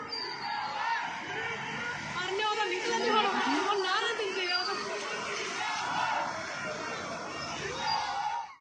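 A dense crowd of ordinary people on a street in Punjab chatters and shouts continuously, many overlapping voices forming a loud, steady hubbub with occasional louder calls rising out of the mass.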